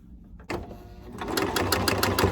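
A sewing machine starts up and stitches along the folded edge of fabric for a protective face mask, its rapid mechanical chatter building quickly to a steady run.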